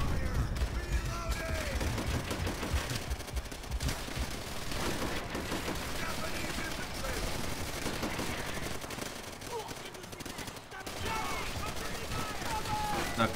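Rapid gunfire bursts from the Call of Duty: World at War campaign, dense machine-gun fusillades and shots running almost continuously, with voices talking over the battle.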